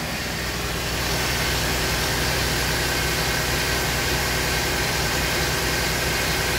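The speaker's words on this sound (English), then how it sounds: "Okay, now the car is running." A 2010 Buick Enclave engine running with a suspected bad alternator, a steady, loud broadband drone with a faint high whine, unchanging throughout with no voices.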